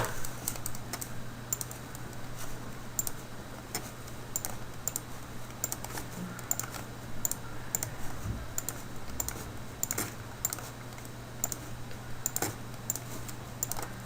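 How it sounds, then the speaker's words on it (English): Steady, quick key presses on a calculator while working out a math problem, a run of light, crisp taps at an even rhythm with no voices. "And I'll type those in the calculator."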